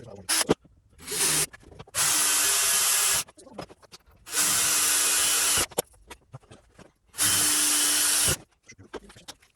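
A power drill bores holes in a Wot4 XL model airplane, heard as three loud sustained whirring bursts of a few seconds each. Between them come handling clicks and rustles at close range.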